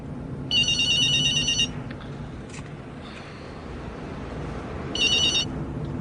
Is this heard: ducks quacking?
no